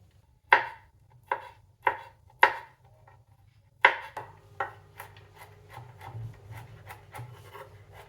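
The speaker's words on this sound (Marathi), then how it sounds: "संपूर्ण पिस्त्याचे मी साल काढून घेतलेले आहे आपण चॉप करून घेऊया" Peeled pistachios are chopped on a board: five sharp, spaced knife strikes, then a quicker run of lighter taps, close and clear with no voices.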